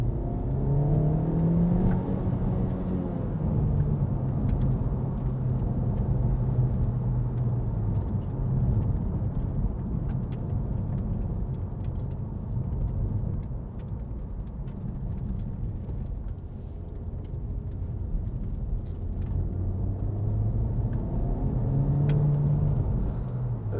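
A car accelerates along a straight road, its engine note climbing and whirring loudly from inside the cabin, easing off midway before rising again near the end.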